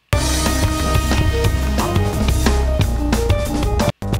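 A loud, dense drum track plays back in Ableton Live with steady kick and snare hits mixed under other instruments, cutting off abruptly near the end.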